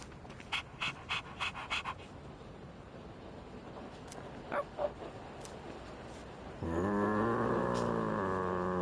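A dog, Koromaru from Persona 3 Reload, pants in quick rhythmic bursts at first, then gives a few softer breaths before a loud sustained musical tone takes over for the final seconds.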